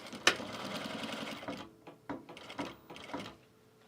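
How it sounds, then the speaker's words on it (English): A sewing machine stitching around the edge of a fabric duffle bag, quiet whirring runs broken by brief pauses and a sharp click near the start. "So I'm just going to stitch around the perimeter of this."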